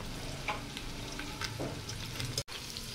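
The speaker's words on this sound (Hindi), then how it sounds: "अब प्याज को हम नरम कर लेंगे, भून लेंगे थोड़ी देर।" Finely chopped onion softening as it fries in a pan, a steady low sizzle that runs evenly throughout with a brief break near the end.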